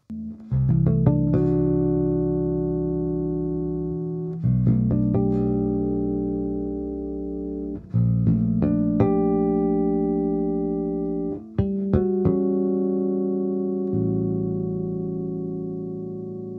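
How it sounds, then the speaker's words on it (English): Ringing harmonic chords on a Willcox Saber VL5 fretted bass guitar, struck in four groups that each sustain and slowly decay, clean and loud with no talking. "the harmonic chords blend together very purely"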